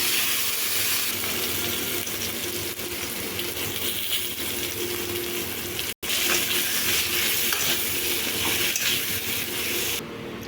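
Cut potatoes frying in hot oil in a pan give off a dense, continuous sizzle that is loud and close, broken once by a brief dropout.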